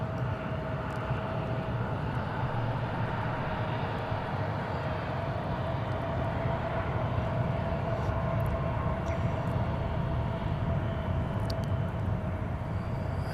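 Airplane at Seattle-Tacoma airport, heard as a steady, continuous engine roar with a faint sustained whine, moderately distant and even in loudness throughout, with no one speaking.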